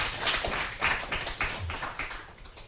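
Studio audience clapping on the French TV quiz show Questions pour un champion, a fairly faint, uneven patter of hands that thins out toward the end.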